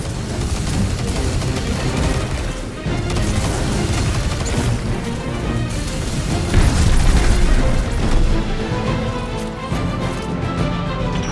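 Guns firing and explosions in the video game Destiny 2, a dense, loud barrage of booming blasts and bursts with no pause across the whole stretch.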